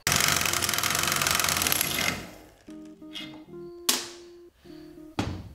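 A power tool buzzes loudly for about two seconds while removing a jam nut from a long tail mud motor propeller, then stops, followed by several sharp metallic clinks and thunks of parts being handled.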